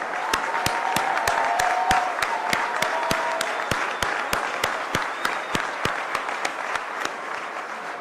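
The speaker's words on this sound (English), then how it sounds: "Give these guys a round of applause." An audience applauds first responders at a political event, a steady wash of clapping from a crowd, with a few sharp, evenly spaced claps standing out close to the microphone.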